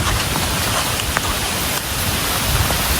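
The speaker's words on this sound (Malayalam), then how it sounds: "നല്ല മഴയാണ്, അത്യാവശ്യം നല്ല വെള്ളമുണ്ട്" Heavy rain falls over a rural village after a windy night, a steady dense hiss of downpour running evenly through the whole stretch with no voices.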